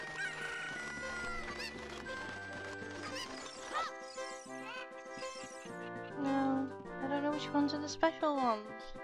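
Chickens clucking and crowing in the video game Ocarina of Time, a string of bright squawks and cackles layered over game music and sound effects.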